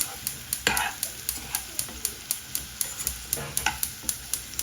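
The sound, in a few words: stirring and frying tomato rice mixture in oil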